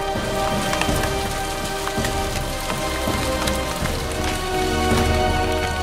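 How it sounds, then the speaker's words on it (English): Torrential rain pours down steadily on a garden of seedlings, a dense, continuous hiss of heavy drops drumming on leaves and soil, loud and close throughout. "torrential rain"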